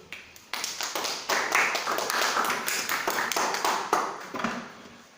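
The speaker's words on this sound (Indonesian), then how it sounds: "Kita kasih tepuk tangan dulu." Classroom students clapping hands together after a peer returns to their seat, a dense burst of claps that starts abruptly, stays lively and uneven, then tapers toward the end.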